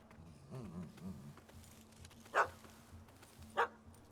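A puppy in the video game The Witcher 3 gives two sharp, close yaps spaced about a second apart, following softer whimpering noises over quiet background ambience.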